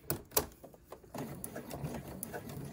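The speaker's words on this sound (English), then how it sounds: "hand crank to get the last stitch on the end there right where I want it" A sewing machine worked slowly by its hand crank to set a final stitch on an adjustable crossbody bag strap, giving a few soft, irregular mechanical clicks and ticks close by, quiet and without talk.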